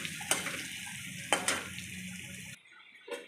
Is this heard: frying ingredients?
yes